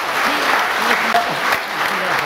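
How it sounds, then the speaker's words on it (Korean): Dense applause from a school reunion gathering, a loud continuous wash of clapping with voices murmuring underneath for a couple of seconds. "박수 좀 쳐주세요."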